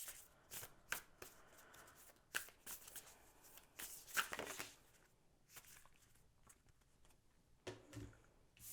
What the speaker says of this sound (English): I'm going to go ahead and pull a couple cards from the Work Your Light deck